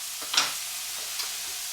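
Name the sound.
beetroots added to hot pan with spices, sizzling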